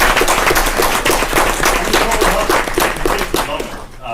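Audience applauding a school robotics team at a board of education meeting, sustained indoor clapping from a roomful of people that stays loud and even before tapering slightly at the end.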